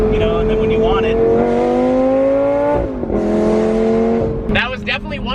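A Lamborghini Gallardo engine revs hard, its loud exhaust note sweeping up in pitch, dropping briefly and climbing again, then giving way to a sharp burst at the end, with a voice talking over it.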